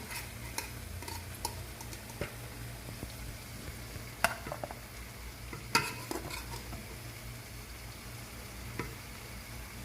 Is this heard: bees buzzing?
no